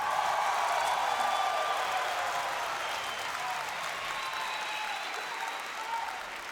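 Crowd applauding for OpTic Gaming at a Call of Duty esports event in Dallas, a broad, steady wash of clapping and cheering that holds loud throughout and eases slightly toward the end.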